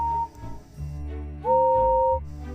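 Several sustained tonal steam locomotive whistles sound one after another, the last held longest and loudest, blowing impatiently.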